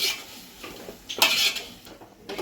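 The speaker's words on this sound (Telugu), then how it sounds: "కలిపేసుకొని ఒక పది నిమిషాలు మూత అయితే పెట్టుకుందాం" A lid set on a pot of chicken biryani gives a short metallic clank amid light clatter of cookware, close by and with no talking.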